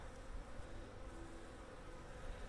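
Honeybees buzzing around a hive, a steady, dense hum of many insects, faint and continuous, with no talking.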